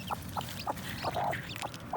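Newly hatched jungle fowl chicks give short, repeated peeps at a fairly even pace, close and moderately loud, with a few brief chirps overlapping in quick succession.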